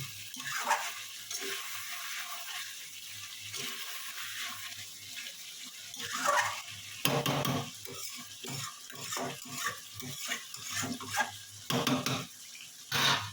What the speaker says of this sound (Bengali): গরম মশলা দিয়ে ভালো করে নাড়িয়ে দেবেন, তাহলে গরম মশলা পুরো মাংসতে হয়ে যাবে।